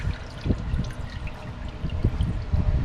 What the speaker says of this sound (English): And want to go ahead and drain it.